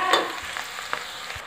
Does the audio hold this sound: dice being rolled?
no